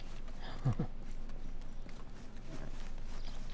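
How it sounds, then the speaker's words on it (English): Horse hooves in Red Dead Redemption 2 clip-clop briefly at close range over a steady ambient background, a few quick thuds before fading into a low outdoor hum. "my horse is over here"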